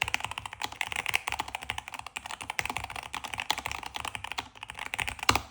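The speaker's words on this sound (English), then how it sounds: "So let's do a typing test." Typing test on an Epomaker Luma 84 mechanical keyboard: a steady run of close, crisp key clacks with fast uneven rhythm and occasional louder thocks, no talking.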